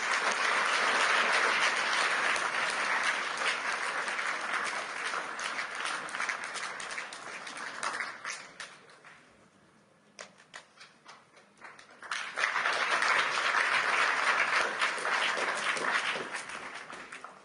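Sustained applause from a large crowd at an economic conference closing session, dying down briefly in the middle before swelling again to full strength.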